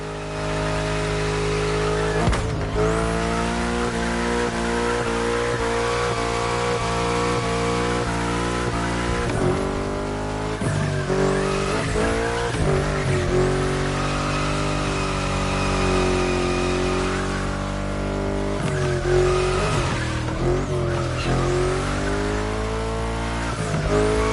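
A racing video game car revs hard through bends, its engine note climbing and dropping repeatedly with tire squeal and skidding as the throttle is released and reapplied, loud and continuous.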